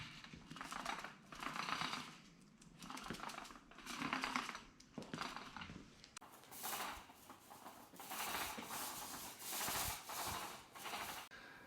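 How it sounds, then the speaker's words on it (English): A thin foam paint roller rolls epoxy coating across a concrete floor, giving a repeated sticky rubbing swish in steady back-and-forth strokes, close by, with no talking. "It's a fairly thin paint roller. It's probably only about an 1/8 inch thick foam on the outside. And then we're just gonna roll this on"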